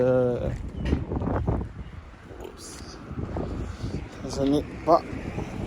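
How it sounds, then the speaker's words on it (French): Gusty wind buffeting the microphone in uneven bursts, with a person speaking over it throughout. "il y a du vent de ouf"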